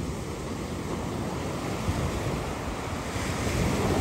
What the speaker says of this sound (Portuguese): As águas maravilhosas do Mar Mediterrâneo.